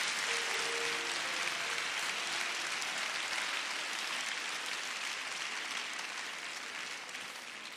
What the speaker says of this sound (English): would you clap your hands and thank God tonight?